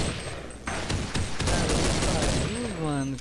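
Sniper gunfire in Counter-Strike 1.6 sounds as a loud sharp shot followed by a dense spell of gunfire and clatter, with voices talking over the action.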